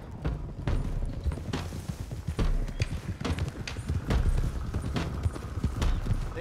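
Horses trotting in Red Dead Redemption 2, a dense, continuous clip-clop of several sets of hooves on dirt throughout, close and steady, with no talk over it.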